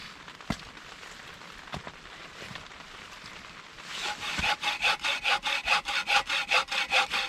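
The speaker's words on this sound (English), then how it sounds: "I gotta start cutting wood." Rhythmic saw strokes cut firewood outdoors as rain starts to fall, about a dozen steady back-and-forth rasps following a few scattered knocks over a soft background hiss of rain.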